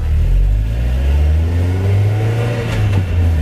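A Mazda Miata project car with fresh Koni shocks and Denso plugs revs its engine while driving, a loud close drone rising and holding steady, alone without talk.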